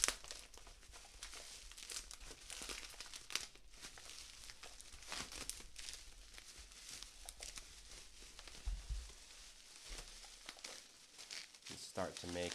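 Close, dry crinkling and tearing as the plastic and cardboard packaging of a Steam Controller is pulled open, an uneven run of rustles and crackles that lasts throughout.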